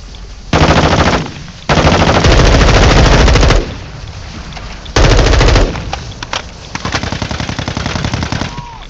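Loud automatic gunfire from Call of Duty Warzone 2.0 DMZ comes in long sustained bursts separated by short gaps, ending in a stretch of more staggered rapid shots.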